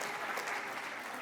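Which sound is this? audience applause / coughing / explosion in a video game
audience applause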